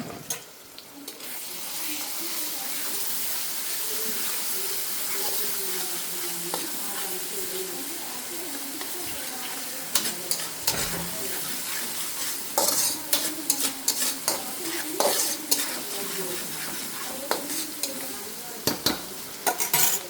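Ginger garlic paste fries and sizzles steadily in a pan at home, stirred with a spoon that scrapes and clatters against the metal in bursts throughout, with no talk over it.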